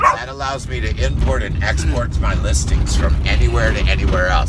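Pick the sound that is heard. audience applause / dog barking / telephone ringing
dog barking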